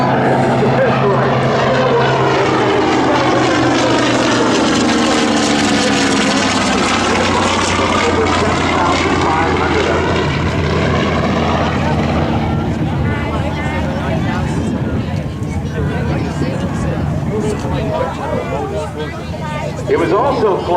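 A TBM Avenger propeller aircraft makes a loud, sustained engine drone during an airshow demonstration, swelling as it passes close overhead and then receding, with an announcer talking over it.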